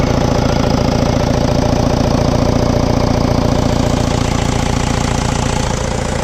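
A 2.2 DTI diesel engine in an Opel Astra G Sport idles steadily and loudly up close during an engine decarbonizing clean, its rhythmic knocking clatter continuous and alone throughout.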